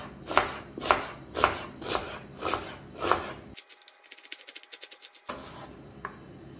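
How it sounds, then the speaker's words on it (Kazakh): An onion is chopped on a board with a knife: about six firm, evenly spaced cuts ring out close by, followed by a burst of quicker, lighter taps, then a pause and one more cut. "Енді жуаны үлкен көлемде турайтын боламын."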